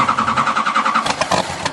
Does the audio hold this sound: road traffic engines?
yes